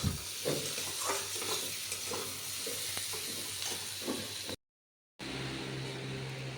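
Fish fries in a hot pot with a steady, close sizzle and the soft scrape of stirring. The sound cuts out briefly near the end, then resumes. No one speaks.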